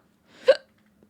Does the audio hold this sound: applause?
no